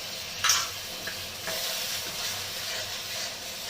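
Spiced masala for pabda fish curry being sautéed in a pan on low heat, a soft continuous sizzle with a brief scrape of stirring near the start, close by and with no talking.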